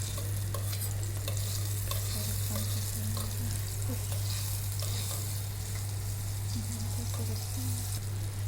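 Grated garlic and ginger sizzle steadily in melted butter in a pan, a dense, even frying hiss with light stirring scrapes throughout and a constant low hum underneath.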